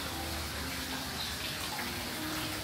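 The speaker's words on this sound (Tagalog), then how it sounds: "Totoong tubig talaga sa pond." Water runs steadily into a pond inside a cafe in Seoul, a soft, continuous trickle and gush heard fairly faintly and evenly over its short span.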